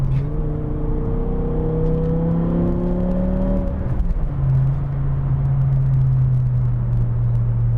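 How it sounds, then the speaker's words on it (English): A BMW E60 M5 with a naturally aspirated V10 and six-speed manual revs up with a rising howl, then drops after a gearshift into a steady, loud, droning exhaust note. "This has such a good exhaust note."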